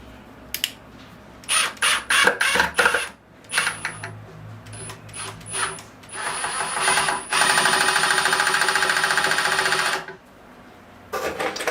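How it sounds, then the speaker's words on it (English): A power screwdriver drives screws to hold a bonsai Ta Prohm temple in place, in several short whirring bursts and then a longer steady run, with clicks and clatter between. "put the screws in now, and that should hold the temple in place"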